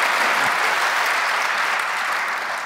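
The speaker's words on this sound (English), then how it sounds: "round of applause" An audience at a live premiere event for the all-electric Jaguar I-PACE applauds in a steady, dense wash of clapping that holds at an even level throughout, with no voices over it.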